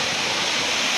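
A waterfall in Odisha roars as a dense, steady wash of broadband rushing water, loud and continuous with no pauses and no voices.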